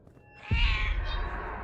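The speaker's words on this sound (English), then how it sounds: "Cat wants me back." A single drawn-out cat meow begins abruptly and holds near and clear for over a second in an otherwise quiet room.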